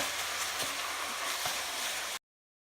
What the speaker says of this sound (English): We're just going to brown the meat.